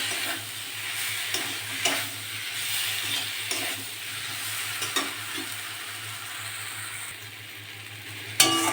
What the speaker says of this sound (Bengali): আলুগুলো দিয়ে ভালো করে কষে নেব